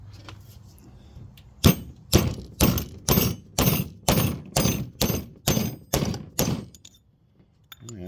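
A hammer taps a shim down onto the crank pulley of a 1964 Suburban, about eleven sharp metallic strikes in a steady rhythm, close and loud, followed by quiet.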